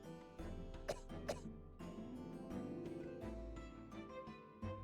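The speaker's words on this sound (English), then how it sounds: "Except maybe that cough." A short cough from a character in the courtroom video game The Great Ace Attorney, heard a couple of times against a steady game music bed, with no talk.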